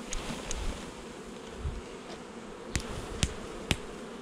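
Honeybees buzzing softly around an open hive while a beekeeper works frames during swarm and queen-rearing season, a low steady hum with a few sharp clicks and knocks near the end.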